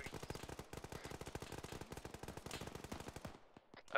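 Automatic gunfire in a Squad-style military shooter game, a long rapid burst of evenly spaced shots at moderate distance, cutting off near the end before a final louder crack.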